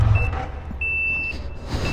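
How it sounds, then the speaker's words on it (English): A Ford F3L vehicle's reversing alarm beeps in steady, evenly spaced tones, fairly loud over a low engine rumble. "It's gonna beep. Caution you, it's gonna beep."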